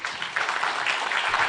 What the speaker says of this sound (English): let me have a round of applause from all of you